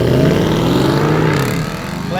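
A Holden Commodore SS-V V8 launching hard with wheel spin, its loud close engine roar climbing in pitch and then easing, with a voice talking over it.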